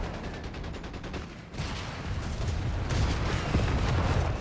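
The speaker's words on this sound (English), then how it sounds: "ripping through them there with heavy flak cannon fire" Flak cannon fire in a Company of Heroes 3 battle pounds in rapid, dense bursts with booming impacts, growing louder and heavier mid-clip, with no voices over it.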